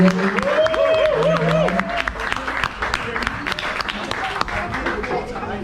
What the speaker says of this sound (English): And we give them another round of applause, people.